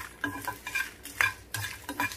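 Dried red chillies and tamarind leaves frying in a little oil, a soft sizzle under repeated stirring strokes, with a few light metallic clinks of a spoon against the pan.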